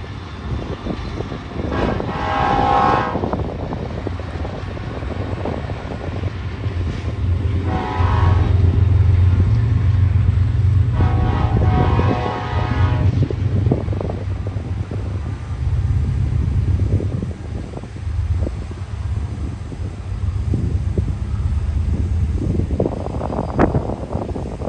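Freight trains racing side by side at the Cajon Pass railroad summit, with loud, continuous low diesel engine rumble throughout and bursts of air horn blasts near the start and middle, no talking.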